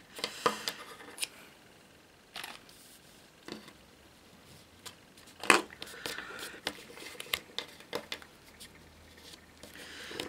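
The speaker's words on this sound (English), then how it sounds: "just snip these ends off that we don't need" Scissors snip off unneeded ends while a paper mini album is being assembled, giving a few quiet, scattered clips with soft handling rustle between them in a calm room.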